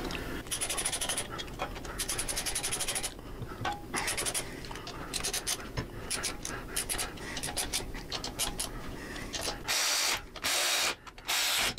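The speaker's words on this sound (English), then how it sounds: "Get our banjo bolts started with our spacers in there." Banjo bolts with spacers are threaded into a motorcycle throttle servo cover, producing continuous close ratcheting clicks and scraping metal mechanism noise, with a harsher burst of rapid clicking toward the end.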